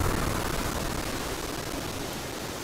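Wind in the survival game Sons of the Forest: a broad, steady rushing whoosh that fades slightly over a few seconds, with no talking.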